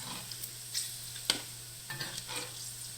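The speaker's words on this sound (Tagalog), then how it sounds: "Halo-haloin mo lang siya para maano siya yung mga nasa ibabaw" Pork fat fries in a pan to render lard while being stirred, giving a faint, steady sizzle with a few soft scrapes and knocks.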